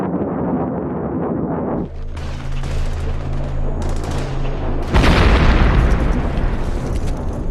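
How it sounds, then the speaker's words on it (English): Heavy, sustained gunfire from a US AC-130 gunship strafing a mountain ridge rumbles and booms loudly, with a dense roar that grows stronger near the end, like a large aircraft's cannons firing continuously. "A US AC-130 gunship strafes the mountain ridge."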